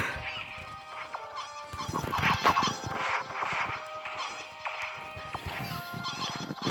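Several chickens cluck and squawk in busy, overlapping bursts, with occasional thumps and clatter mixed in, close by and fairly loud.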